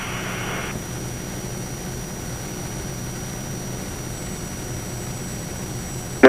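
Steady broadband engine and airflow noise inside a Cirrus Vision Jet cruising in flight over Northern California, a constant droning hiss that fills the whole clip with no talk.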